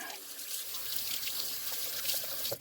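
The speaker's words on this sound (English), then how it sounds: "Rinse with cold water." Cold tap water runs steadily into a sink while rinsing a cast iron pan, a continuous close hiss and splash with no talking.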